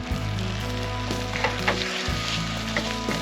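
Breakfast sizzles steadily in a pan held over a campfire, a continuous close frying hiss with a low crackle underneath and brief scraping shifts as the pan is moved; no one speaks.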